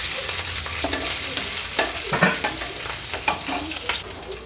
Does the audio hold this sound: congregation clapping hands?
no